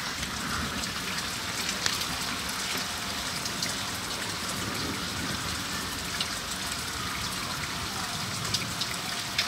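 Steady rain falling during a summer thunderstorm in Greater Manchester, UK, a constant soft hiss of drops on surfaces with no breaks, moderately faint and even throughout, no voices.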